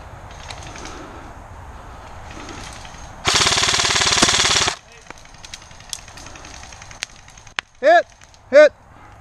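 Airsoft guns fire during an outdoor airsoft game: a dense, loud sustained burst of rapid automatic fire lasts about one and a half seconds, followed by sparse single pops and clicks, with two short shouted voices near the end.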